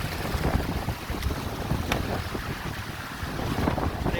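Strong wind on a hill trek buffets the microphone, a loud continuous roar and rumble with gusty swells across the whole stretch and no voices.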